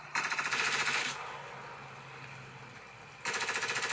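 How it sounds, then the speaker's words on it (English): Rapid automatic gunfire in a video game played with a PS4 controller on an iPhone, two loud sustained bursts of evenly spaced shots separated by a quieter stretch, with no talking. "who's shooting at me?"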